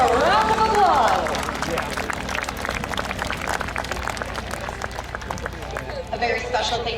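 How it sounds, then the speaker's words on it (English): Crowd at the Oshkosh EAA airshow applauding after a Flying Bulls P-38 display, a broad wash of clapping and cheering under a public-address voice, loudest at first and then holding steady. "Let's hear a round of applause."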